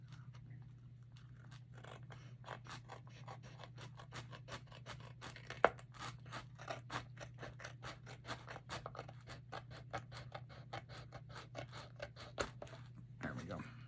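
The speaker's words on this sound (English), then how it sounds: "I see a spot on here I need to trim just a tiny bit right here" Scissors trimming the paper edges of an altered book: a long series of quick, quiet snips and scratchy scrapes over a steady low hum.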